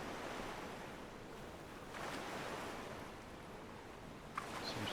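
Steady ocean surf and wind in the Bannerlord video game, a continuous rolling wash that swells slightly around the middle, with a brief knock near the end.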